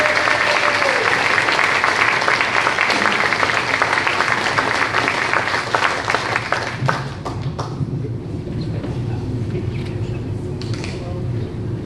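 Audience at a seaside anniversary celebration applauds and cheers, a dense wash of clapping filling the first seven seconds before thinning out, with crowd voices and talk mixed in.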